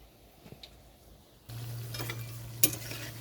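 Potato fritters frying in a pan: after a quiet start with a few soft clinks, a steady close sizzle takes over, with a spoon stirring and one sharp metallic clink.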